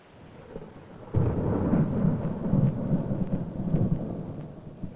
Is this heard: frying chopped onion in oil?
no